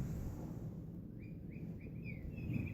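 A bird-shaped cat toy gives a quick run of short, high chirps when touched, quiet and close, over a low background hum.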